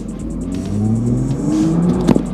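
Nissan GT-R supercar launching hard from a standstill: a loud, close engine roar climbs steadily in pitch, dips briefly at a gear change, then keeps rising.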